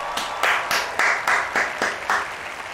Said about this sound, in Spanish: fuerte aplauso para el señor Luke Jonathan, que suenen las palmas, por favor, señor Luque.